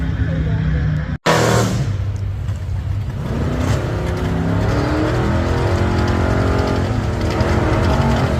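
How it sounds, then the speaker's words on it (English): A 1967 Chevy Nova drag car launches at a Coos Bay, Oregon drag strip, its engine roaring loud and close after a brief cut, then holding a strained, rising howl as it pulls away; a voice talks over it. "racing a 67 Nova"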